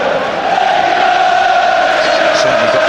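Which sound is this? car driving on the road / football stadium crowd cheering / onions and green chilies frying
football stadium crowd cheering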